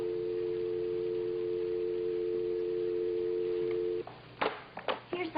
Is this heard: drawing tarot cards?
no